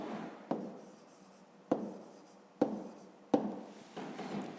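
A pen or pencil scratches out numbers by hand in short strokes, each group starting with a sharp tap on the page, close and quiet, with no talking.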